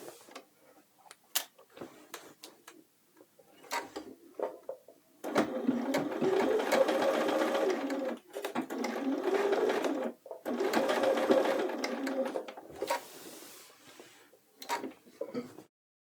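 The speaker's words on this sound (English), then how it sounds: "we're going to sew down the rest of the entire leg seam" A sewing machine stitches a pants leg seam in close, rapid mechanical bursts, running steadily for a few seconds at a time between pauses, with soft handling clicks in the gaps.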